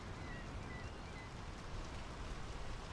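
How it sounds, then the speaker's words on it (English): Steady rain in the video game Draugen, a soft, continuous patter and hiss of drops with no voices, fairly quiet and even throughout. "The rain's picking up."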